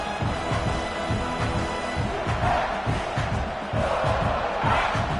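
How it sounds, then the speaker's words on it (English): A big American football stadium crowd roars continuously during a game, loud and sustained, with swelling cheers and shouts blending into one wall of noise. "Listen to this crowd just shaking the girders of this place, trying to help their defense."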